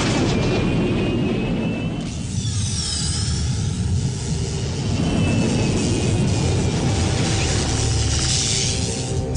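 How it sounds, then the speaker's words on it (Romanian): Explosion in the animated series Galactik Football, a loud sustained rumbling blast with a deep roar and whooshing, sweeping overtones that continues without pause. "Sony, noi suntem bine, dar unda explozii se îndreaptă către Genesis."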